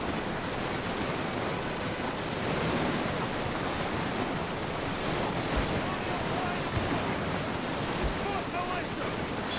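Massed musket volleys crackle in a Victoria Total War battle of the Mexican-American War, a dense continuous roar of distant gunfire with a few sharper nearby shots, with no voice heard.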